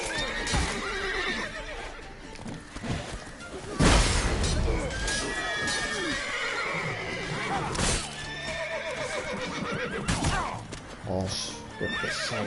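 Horses in The Witcher 3: Blood and Wine whinny loudly several times over clip-clopping hooves and game sound effects, with occasional crashes and a voice talking throughout.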